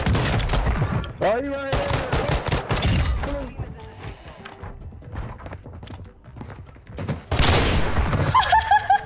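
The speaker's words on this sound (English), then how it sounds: "Uh-oh, I'm being sniped." In a video game, rapid gunfire bursts and sharp shots crack close by amid hectic game effects, with a player talking over the action.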